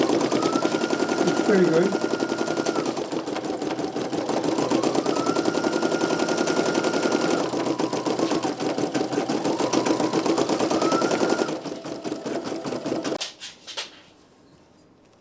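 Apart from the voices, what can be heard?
Brother PE900 and NQ1700E embroidery machines stitching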